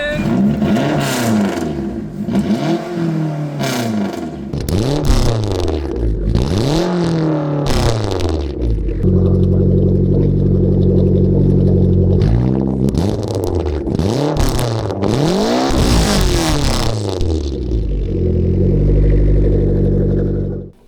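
A Mitsubishi Eclipse engine runs loud and close, revved again and again in rising and falling sweeps with a steady rough idle in between, alone without talking, ending in a sudden cutoff.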